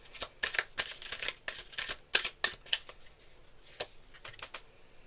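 Tarot cards shuffled by hand in quick riffling bursts of crisp flicks and snaps, close and fairly quiet, pausing briefly before a few final flicks.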